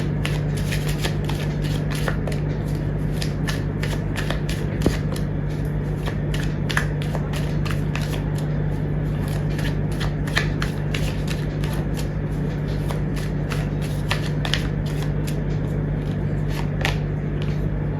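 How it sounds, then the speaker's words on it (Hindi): Tarot cards are shuffled steadily for the whole stretch, a rapid, continuous flutter of light snapping flicks close by over a constant low hum. "जब तक मैं कार्ड शफल कर रही हूँ"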